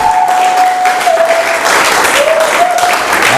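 A church congregation applauding together, a loud, dense and continuous wash of clapping with a faint sustained voice or tone running beneath it.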